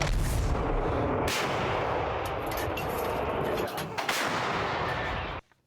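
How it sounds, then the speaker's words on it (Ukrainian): A 2S1 Gvozdika self-propelled howitzer fires with a powerful boom, followed by a long rumbling roar and a second blast before it cuts off abruptly. "поспілкувалися з артилеристами, які нищать ворога із САУ Гвоздика на Лиманському напрямку"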